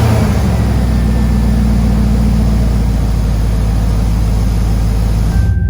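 A Chevy 1500HD truck with an LS 6.0 V8 runs at a steady idle, a loud, continuous low rumble with no voices over it, and it stays even to the end.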